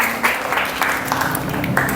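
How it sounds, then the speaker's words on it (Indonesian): A classroom group claps together after a lesson on naturalist painting, a brief burst of applause from a modest crowd heard up close. "Nah, tepuk tangan buat kita semua"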